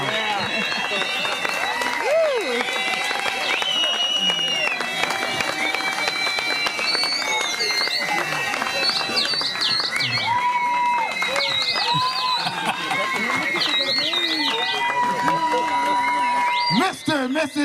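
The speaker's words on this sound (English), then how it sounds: "Give them a round of applause" Wedding guests applaud and cheer a newly married couple at their ceremony, a loud sustained burst of clapping with whoops from a nearby crowd, under an officiant's speech.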